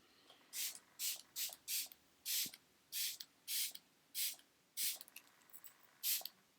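Makeup setting spray hisses onto a face in about a dozen short, even bursts, close and crisp with brief pauses between pumps and no talking.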